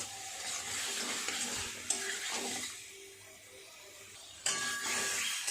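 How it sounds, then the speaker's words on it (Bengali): Egg, potato and spices stir-fried together in a pan for an egg curry, giving a close, steady sizzle with scraping stirs and a couple of sharper clatters, loudest at the start and end. "ডিম আলুর সাথে সমস্ত মশলাটা আর একটু কষিয়ে নেব"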